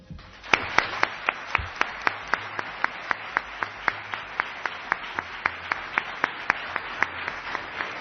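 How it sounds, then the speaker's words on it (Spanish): A live audience at the Spanish radio show Milenio 3, broadcast from Bélmez, claps in a slow, even, synchronized rhythm, with sharp, regularly spaced beats continuing for several seconds without talking. "don Salvador Ortega Mayén, para el que de verdad pido un aplauso."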